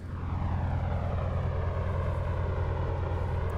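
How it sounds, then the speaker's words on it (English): Twin propeller engines of a FlyingIron P-38 Lightning in the MSFS 2024 flight simulator drone at a steady, loud cruise, with a deep low throb and layered harmonics. No voices are heard. "Yeah, the engines sound really good."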